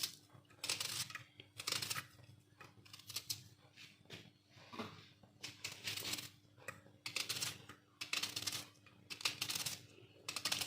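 Onion being finely chopped with a knife on a board for a dhaba-style potato and cauliflower dish, a quiet run of rapid, crisp taps in bursts with short pauses, alone.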